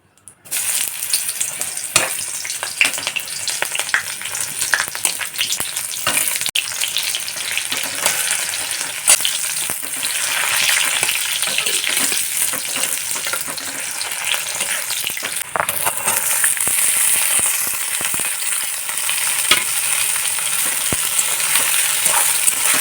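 Bitter gourd frying in a pan on a gas stove, a loud, continuous close sizzle with scattered crackles and occasional stirring, steady throughout with no talk.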